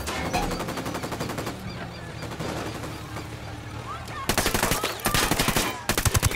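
Rapid automatic gunfire in Ghost Recon Wildlands, loud and close, in bursts of evenly spaced shots at the start and again near the end, with a quieter mix of distant shots and ambient noise between them.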